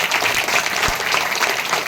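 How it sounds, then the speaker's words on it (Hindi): A worship congregation claps for Jesus during a Hindi-language Christian sermon, a dense, loud, steady wash of many hands filling the room with no pause. "ताली बजाएंगे यीशु के लिए"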